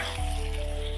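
Chicken pieces sizzle and fry in a pan as they are stirred with masala, a close, continuous crackle with a soft thump as the stirring begins.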